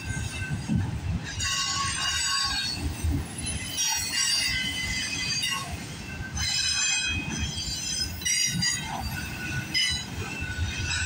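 CPKC 135 freight train with a single locomotive passing close at Guelph Line in Campbellville, Ontario, its wagons rumbling steadily with continuous high wheel squeal and screech throughout, no talking.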